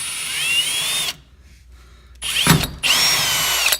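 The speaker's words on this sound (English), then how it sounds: "We'll drill our hole." A power drill bores a hole for a Mustang ghost light installation in two loud, close bursts of whining drilling, separated by a short pause.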